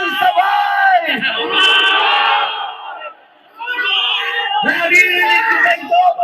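A large crowd at a rally in Liwasang Bonifacio shouts together in loud, sustained chant-like bursts, with one brief lull before the voices rise again.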